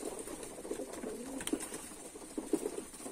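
Pigeons in a breeder's loft give soft low coos, a few clearer calls rising over a steady murmur of birds close by.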